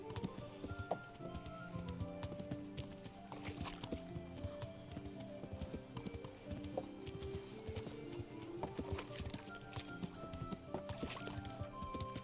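Steady clip-clop of horse hooves trotting in a brisk, continuous rhythm in the video game Kingdom Come: Deliverance, layered over a busy background with music-like tones.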